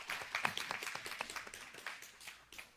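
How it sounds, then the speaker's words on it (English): Scattered, light clapping from a small group for a teacher during a character education training session, faint and uneven, with a few louder claps early on. "let's give the first teacher a round of applause"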